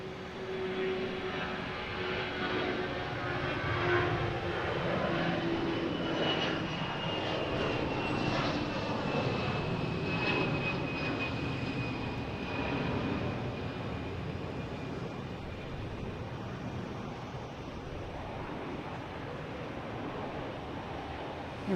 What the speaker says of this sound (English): Our next taking off is a Delta A319 heading to Dallas-Fort Worth.